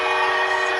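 A train whistle blares over the PA at a packed football stadium during a Denver at Buffalo NFL game, a steady, loud sustained tone with no talk over it.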